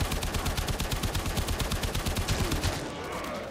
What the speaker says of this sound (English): The automatic rifle